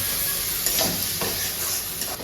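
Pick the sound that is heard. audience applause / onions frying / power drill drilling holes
onions frying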